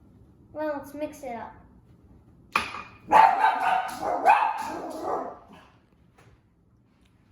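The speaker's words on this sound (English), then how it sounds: "He was barking at a squirrel." A pet dog barks sharply at a squirrel several times in quick bursts near a kitchen, following a man's brief speech.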